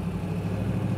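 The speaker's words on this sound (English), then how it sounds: "see how we're cammed up, but see how nice we're idling? Idling nicely, not stalling out" A cammed 1969 Chevrolet Camaro SS V8 idles close by, a steady low rumble with a slightly uneven lope throughout the moment, no voices over it.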